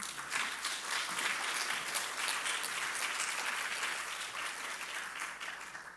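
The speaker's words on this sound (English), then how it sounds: "So please give a round of applause to both of these incredible women" Audience applause at the Seventh Annual Last Girl Awards ceremony: a dense, steady wash of many hands clapping that holds at full strength for several seconds before easing slightly toward the end.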